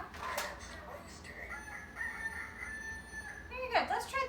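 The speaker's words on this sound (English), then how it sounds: "So let's see what sound a rooster makes." A sound machine plays back a recorded rooster's cock-a-doodle-doo in a farm-themed circle time. The crow is fairly faint and drawn out, with a squawky burst near the end and low room murmur underneath.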